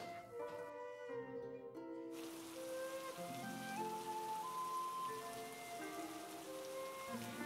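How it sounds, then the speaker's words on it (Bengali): Heavy monsoon rain pours down in a steady, even hiss beneath melodic music in an animated scene. "দাদা, দেখ দেখ কত জোরে বৃষ্টি পড়ছে"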